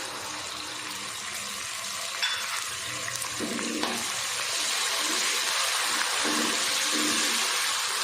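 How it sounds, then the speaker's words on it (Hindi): Ginger and garlic dropped into hot oil with whole spices such as cloves and black peppercorns for chana dal pulao: a steady loud sizzle and crackle throughout, with occasional stirring scrapes. "और अब डाल देते हैं अदरक और लहसुन।"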